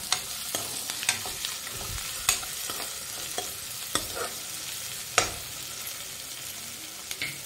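Chopped capsicum sizzles steadily in hot oil while being stirred in a pan for an egg chilli, with sharp scraping clicks from the stirring spoon scattered through the close, continuous fry.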